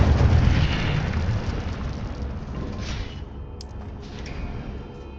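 A fiery Incendio spell blasts in Hogwarts Legacy, a loud roaring burst up front that rumbles and slowly fades, with a brief sparkling crackle near the end.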